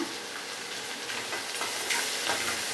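Tomato goes into a hot pan on the stove, bringing a continuous hissing sizzle of frying with faint stirring scrapes, close and steady, with no voices.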